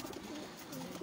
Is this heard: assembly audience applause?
no